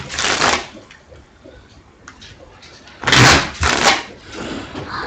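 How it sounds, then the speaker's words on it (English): A deck of cards being shuffled quickly: two short bursts of riffling flutter, one at the start and a louder, longer one about three seconds in, with quieter handling noise between. "let's do some quick shuffling"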